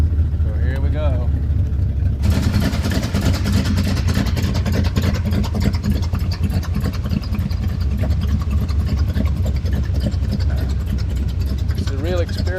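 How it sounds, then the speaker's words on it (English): A modified 1929 Ford with Corvette running gear and a 360 cubic inch small block Chevy fitted with a Holley 650 double pumper carb rumbles steadily while driving, its loud engine drone continuous and close, with a voice over it early on. "It's got a 360 cubic inch small block Chevy engine in it with a Holley 650 double pumper carb."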